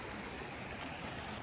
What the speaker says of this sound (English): because it was right next to the creek.